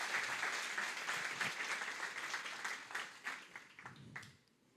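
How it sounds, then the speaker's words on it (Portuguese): Applause from a church congregation for a couple called forward at a marriage-themed service, a steady wash of many hands that thins out and fades toward the end. "Uma salva de palmas agora para esse casal também."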